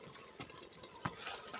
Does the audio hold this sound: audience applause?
no